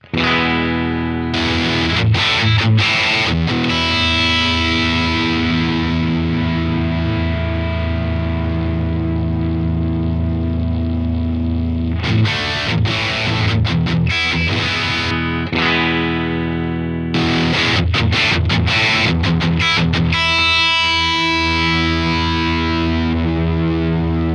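Heavily distorted electric guitar through a Universal Audio Dream 65 amp pedal playing sustained chords, ringing out in bursts separated by quieter decaying tails.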